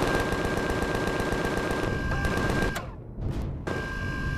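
Rapid machine-gun bursts from Empyrion – Galactic Survival (Alpha 10) open fire on an enemy. The shots come loud and dense as continuous automatic fire, break off briefly near the end, then resume.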